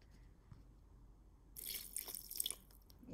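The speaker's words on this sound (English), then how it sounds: "Add 20 grams of water." Water is poured into a Thermomix bowl in a soft, splashing stream that starts suddenly after a quiet pause and runs steadily to the end.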